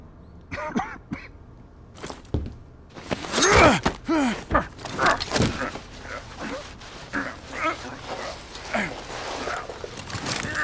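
A dog whimpers and yelps in a Call of Duty: Black Ops Cold War scene, with several short whines and pained vocal bursts, loud and close amid other game sounds.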